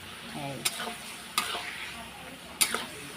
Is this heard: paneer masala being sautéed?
yes